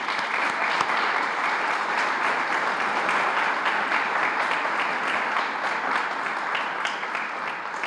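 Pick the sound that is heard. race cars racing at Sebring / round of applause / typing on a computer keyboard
round of applause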